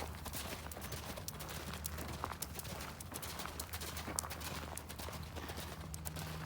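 A horse cantering around a circle during a riding lesson, its hoofbeats a steady rhythmic clip-clop at moderate distance over a constant background hum.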